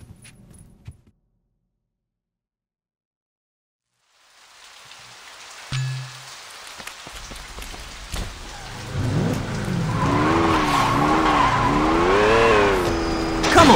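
A car in the video game Saints Row 2 drives off and skids, a rising engine roar with wavering tire squeals building loud after a quiet start, no talk.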